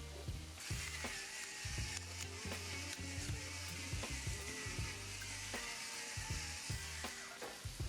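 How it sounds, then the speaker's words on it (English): Catfish and vegetables frying in a wok on high heat give a steady sizzle, broken by repeated clicking and scraping from a utensil moving through the pan. "Now this catfish is gonna simmer in our wok on a high heat for about a minute"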